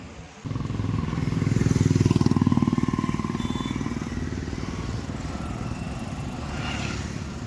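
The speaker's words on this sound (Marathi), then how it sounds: "खूपच रिफाईंड इंजिन असल्यामुळे गाडी खूप स्मूथ चालते आजही" A Honda SP Shine 125 BS6 motorcycle engine on a ride, starting up into a steady, fairly loud low putter that rises slightly then settles into an even running drone, heard close with wind in the background.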